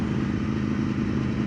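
An Aprilia RSV4 Factory motorcycle on the move, its engine a steady, loud, continuous drone with a dense low rumble and no pauses or audible speech.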